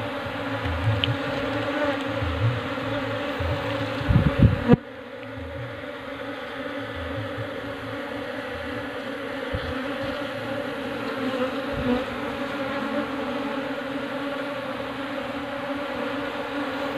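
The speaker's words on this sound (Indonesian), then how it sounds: "Dan di sini juga ada lebah pejantannya ini, atau lebah drone ini." A bee colony with drones present buzzing steadily, a dense continuous drone close by, with brief handling knocks near the start and a sudden drop in level partway through.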